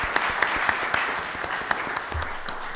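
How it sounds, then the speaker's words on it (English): A room applauds at a county board of commissioners voting session, honoring a charity and parks department; steady moderate clapping with a few sharper individual claps standing out, continuing evenly throughout. "applause"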